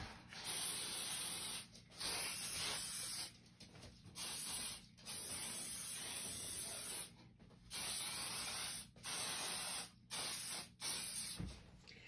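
Hairspray hisses from an aerosol can over a thrift store picture frame in roughly ten short bursts of about a second each, close and steady, with brief quiet gaps between them.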